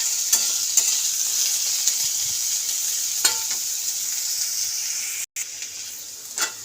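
Chilies fry lightly in a pan with a steady, fairly loud hiss and sizzle, punctuated by occasional soft stirring taps, with a brief dropout near the end.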